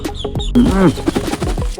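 A Chinese goose at a farmhouse lets out a short, honking cackle close by, a single burst of calling with brief voices and farmyard noise around it.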